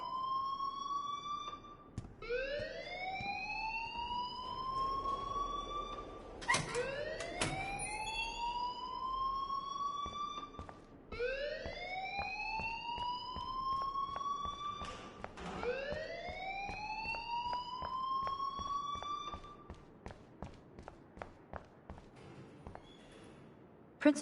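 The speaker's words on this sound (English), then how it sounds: "please turn off that alarm since that's your job" A looping electronic alarm rings inside a video game, each rising, whooping sweep repeating every few seconds, loud and steady, with faint clicks underneath and no voices.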